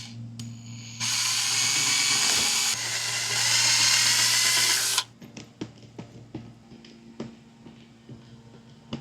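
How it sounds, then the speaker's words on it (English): A power drill whines steadily at high speed for about four seconds drilling a pilot hole, then stops, leaving a series of light clicks and taps. "And drill us a pilot hole."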